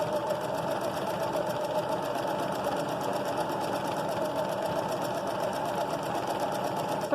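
Sewing machine stitches steadily while backstitching fabric, a fast, even mechanical whirr with a regular needle rhythm, heard close and alone at low level throughout.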